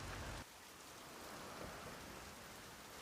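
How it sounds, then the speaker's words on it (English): Heavy downpour in the racing video game Initial D Stage 4, a dense, steady hiss of rain that opens with a louder burst for half a second, then settles into a constant wash with no voices. "Why would anyone race in a downpour like this?"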